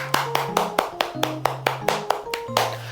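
Rhythmic clapping for those finishing an online church Bible study, about a dozen evenly spaced claps at a steady beat, with sustained musical tones playing underneath.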